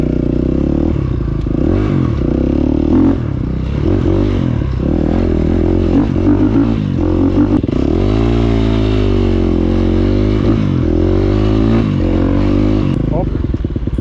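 A 2012 KTM 250 EXC dirt bike engine runs nearby, idling with a loud, throbbing note and occasional blips of revving, mixed with clattering and scraping for the whole stretch while someone talks over it.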